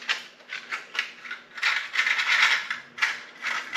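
Screws being pulled from a wooden pallet St. Andrew's cross project and rattling, heard as bursts of close metallic jingling and clinking that come in irregular clusters with short pauses.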